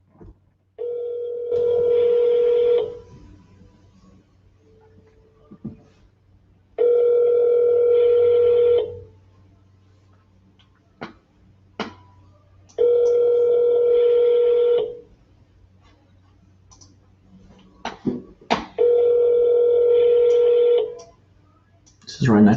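Four long ringback tones from an outgoing phone call, each lasting about two seconds, separated by pauses that carry faint clicks and a brief voice.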